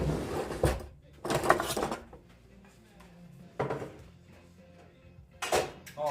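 A bowl and spoon are taken from a wooden cupboard in a Canadian cabin: a few separate bursts of wooden door and drawer knocks and dish and cutlery clatter, close and fairly quiet, with pauses between.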